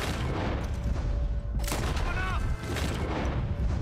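Gunfire rings out in the Red Dead Redemption 2 video game in the town of Rhodes: a couple of loud, booming shots cut through game noise while players talk over them.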